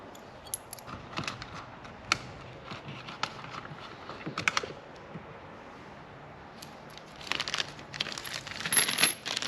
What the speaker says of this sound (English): I'm putting everything to a plastic container